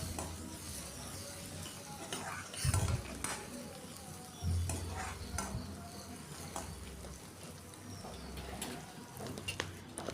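Onion and tomato fry quietly in a pan, a faint sizzle broken by scraping stirs and occasional knocks of a spoon against the pan.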